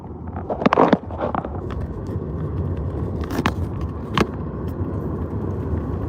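Car being driven, heard from inside the cabin: a steady low road and engine hum throughout, with a few brief light rattles and clicks near the start and in the middle.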